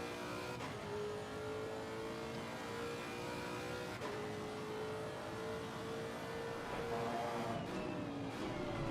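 A race car in Assetto Corsa Competizione at the Imola circuit accelerates with a steady, droning engine note that climbs through the gears, continuous and fairly close throughout.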